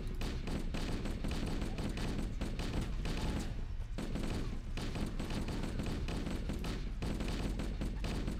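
Rapid, sustained weapon fire from an elite in the Halo CE campaign, a dense unbroken barrage running throughout at steady loudness with only a brief dip midway.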